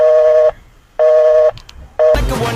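Telephone tones from a call that gets cut off: three identical steady beeps of about half a second each, spaced evenly and loud, then a short burst of harsh noise at the end.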